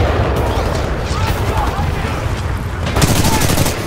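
Flatline rifle gunfire in Titanfall 2, a dense, continuous spray of shots with booming low end, louder bursts near the end and speech mixed in.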